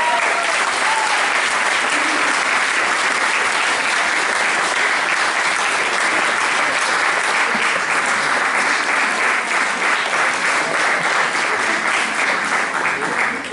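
Loud, continuous applause from an audience at a pop-rock contest award ceremony, dense and even from start to finish without letting up.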